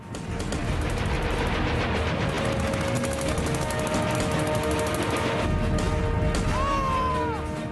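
Rapid, dense gunfire rattles continuously in bursts, loud and close, with sharper shots cutting through near the end.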